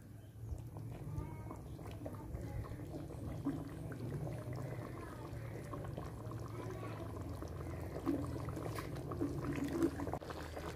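Yogurt simmering uncovered in a pan for black pepper chicken karahi, giving a low, steady bubbling and gurgling that stays fairly quiet and swells slightly toward the end.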